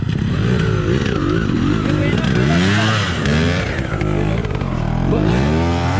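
A trail motorcycle's engine revs loudly and continuously up close on an off-road trail, pitch rising and falling as the throttle is worked, with people shouting over it.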